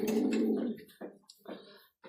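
Pigeons kept in a loft, including a Lahore female, give low, soft cooing calls: one longer rolling coo followed by several short, throaty bursts, close by and alone.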